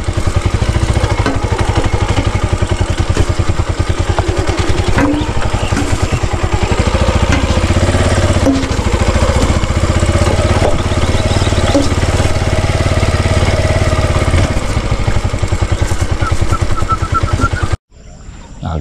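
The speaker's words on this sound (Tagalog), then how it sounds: "Pandar tayo ng makina para sa kalamansi." A farm machine engine runs for calamansi work, a loud continuous mechanical drone with rapid pulsing chatter that keeps steady for most of the time before cutting off abruptly near the end.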